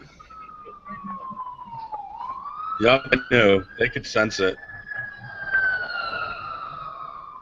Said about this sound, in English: Those cops just drive by with their sirens on next to the front of my house